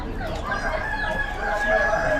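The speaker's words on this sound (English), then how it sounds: "Couple of roosters here as well." Roosters crow and cluck amid the steady chatter and bustle of an Amish animal auction, several birds calling with drawn-out, wavering cries over a noisy crowded background.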